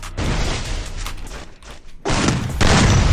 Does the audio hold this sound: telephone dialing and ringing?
no